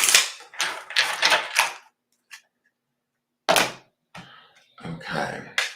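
Tarot cards are shuffled close up in bursts of crisp riffling and flapping, separated by a near-silent pause and a few soft taps.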